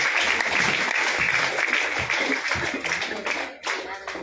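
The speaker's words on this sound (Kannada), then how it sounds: "ಚಪ್ಪಾಳೆಯೊಂದಿಗೆ ಅಭಿನಂದನೆ ಸಲ್ಲಿಸಿ." An audience claps steadily for uniformed group-singing prize winners at a school-style award function, a dense, sustained round of applause that briefly dips near the end.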